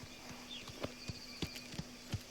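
Horse hooves clip-clop at a walking pace in Mafia: The Old Country, six or seven soft, evenly spaced hoofbeats over a low steady hum, faint and close with no talk.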